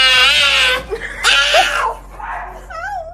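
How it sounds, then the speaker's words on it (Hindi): A frightened dog whines and cries in high, wavering yelps while its nails are being clipped, loud and close, in several drawn-out bursts with short pauses between. "जब ये कुत्ता कैसी कैसी आवाजें निकालता है ये आप खुद ही सुन लीजिए।"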